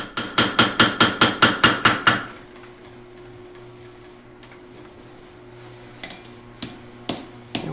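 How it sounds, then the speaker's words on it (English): A hammer strikes an anvil while forging a steel Japanese knife blade: nine quick, evenly spaced ringing blows, then a quiet stretch with a low hum, followed by a few scattered lighter taps. "And we just straighten all that out on the anvil with the hammer."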